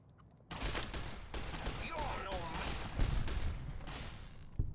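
Rapid gunfire from the Fido weapon in Fallout: Tale of Two Wastelands, Old World Blues, a dense continuous burst of shots mixed with game effects and background sound, loud and close, with a sharp bang near the end.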